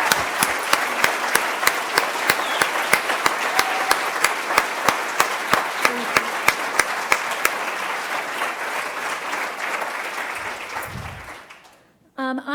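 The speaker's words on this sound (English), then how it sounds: "I just want to have a round of applause for all of them" An audience at a 2018 Toronto mayoral debate applauds the candidates, a dense, steady wash of many hands clapping with sharp individual claps standing out, sustained for about eleven seconds before fading away; a voice begins speaking just as it ends.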